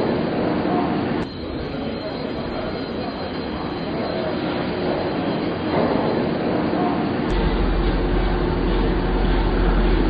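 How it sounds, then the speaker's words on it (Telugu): A battery-powered suspended sky train in Chengdu hangs beneath its elevated track, giving a steady rolling rumble and hum that swells slightly toward the end, with no speech over it. "ప్రత్యేక వంతెన కింద వేలాడుతూ వెళ్లే ఈ రైలు లిథియం అయాన్ బ్యాటరీలతో నడుస్తుంది"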